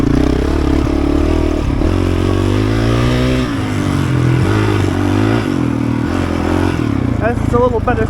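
A Honda CRF450RL dual sport motorcycle ridden through trees on an enduro track, its engine loud and close, rising and falling as it revs and shifts, with clatter and scraping over rough ground.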